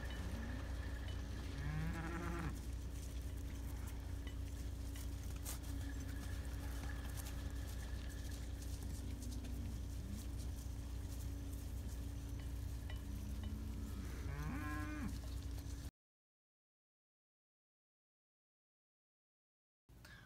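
Dairy cows on a farm, several low drawn-out moos at different distances over steady noisy farm background, then the sound cuts to silence near the end.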